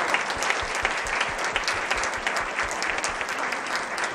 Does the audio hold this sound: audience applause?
yes